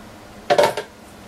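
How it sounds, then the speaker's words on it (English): Cold process soap batter for a watermelon lime shave ice soap is stirred deeply in a container with a utensil, giving one brief scraping, clattering burst of about a third of a second, close and alone against near silence. "really giving it a good deep stir"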